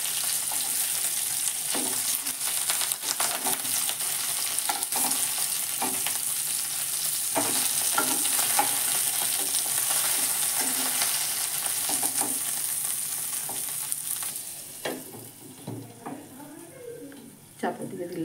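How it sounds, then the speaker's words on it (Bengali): Katla fish paturi frying in a pan at home, a steady oily sizzle with occasional scrapes and clatter as the pieces are turned, close and continuous, with someone talking over it. "এইভাবে উল্টে পাল্টে আমি ভেজে নেব 2 পিঠ।"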